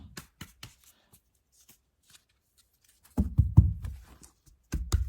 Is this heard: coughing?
no